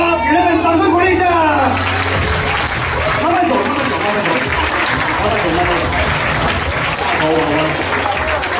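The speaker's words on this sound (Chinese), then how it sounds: "给他们掌声鼓励一下" Middle school students in an assembly hall break into dense, sustained applause for police mascots, the clapping loud and continuous while an amplified voice talks over it at the start.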